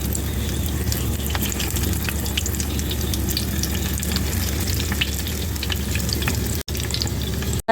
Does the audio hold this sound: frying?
yes